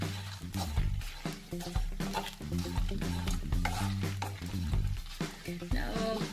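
Whole spices with turmeric dry-roast in a pan for fish curry, a busy stream of scraping and rattling stir strokes with light crackle, close and continuous.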